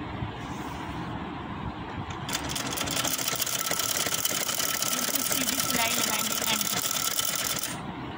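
An electric sewing machine stitching the hem of a capri trouser, starting after about two seconds with a steady, fast mechanical whirring and rattling that runs continuously at close range, with a faint voice in the quieter opening.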